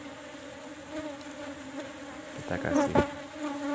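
Honey bees buzz around the frames of a hive, a steady close drone that swells slightly toward the end while a voice speaks briefly.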